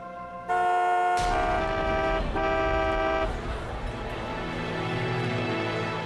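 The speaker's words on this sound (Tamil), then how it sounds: "ஓ நோ டிராஃபிக் ஜாம் ஆயிடுச்சு" Several car horns honk loudly and overlap, some long and sustained, fading into the rumble of engines in congested traffic.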